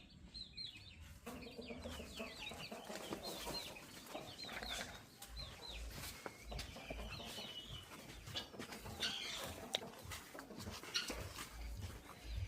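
Desi chickens cluck and call around a village yard during a Sankranthi gathering, repeated clucks over a busy background with a dog barking and occasional sharp knocks.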